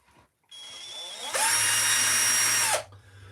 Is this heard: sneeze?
no